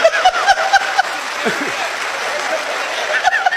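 Audience applause at a Haryanvi stand-up comedy show, a steady wash of clapping that runs the whole stretch, with a few sharper claps near the start and end and faint speech mixed in.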